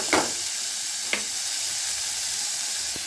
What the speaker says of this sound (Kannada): ಚೆನ್ನಾಗಿ ಮಿಕ್ಸ್ ಮಾಡಿ ಎಣ್ಣೆಯಲ್ಲಿ ಹುರ್ಕೋಬೇಕು.